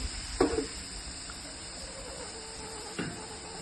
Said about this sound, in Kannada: ನೀವು ಕುದೀತಾ ಇದೆ ನೋಡಿ, ನಾನು ಗ್ಯಾಸ್ ಆಫ್ ಮಾಡಲಿಲ್ಲ, ಸ್ಲಿಮ್ಮಲ್ಲಿ ಇಟ್ಟಿದ್ದೇನೆ